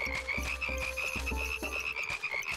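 A frog-like toad character wearing a wizard hat croaks in a video game after being clicked, a run of loud, evenly spaced croaks repeating over a steady tonal game background.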